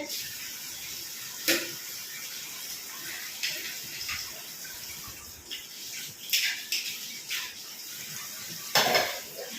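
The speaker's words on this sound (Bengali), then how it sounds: "রান্না করিনি তাও এত বাসন কেন বলো তো" Dishes, bowls and a frying pan being washed under running water, with scattered clinks and clatters of crockery and metal over a steady wash of water; no one speaks.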